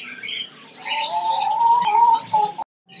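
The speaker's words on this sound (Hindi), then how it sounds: "देख सकते हैं पीछे बहुत सारे परिंदे पड़े हुए हैं भाई के पास" Caged birds at a Sunday bird market call close by, with a sustained cooing and warbling tone plus scattered chirps over a quiet background, ending with a brief gap.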